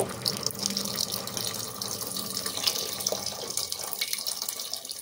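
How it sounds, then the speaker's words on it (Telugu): Tamarind juice pours in a steady, continuous splashing stream into a pot of cucumber dal, heard close and fairly quiet throughout. "ఈ రసం దోసకాయ పప్పులో పోసుకోవాలి."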